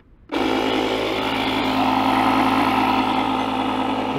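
A JFEGWO 8000 battery booster with built-in tire inflator compressor switches on after a brief quiet moment, then runs with a steady, loud motorized drone and buzzing vibration that holds unchanged to the end.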